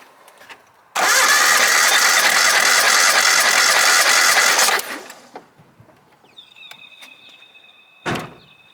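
An engine cranks hard for about four seconds during a wide-open-throttle compression test after a rebuild, loud and close and fairly even, then stops, followed by faint clicks and a sharp knock near the end.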